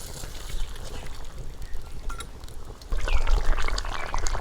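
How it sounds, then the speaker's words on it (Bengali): Fried tangra fish go into simmering curry for tangra macher tel jhal, giving a loud, continuous bubbling and sizzling that grows louder and more agitated partway through. "আমি ঢাকনা খুলে ভেজে রাখা মাছগুলো দিয়ে দেবো।"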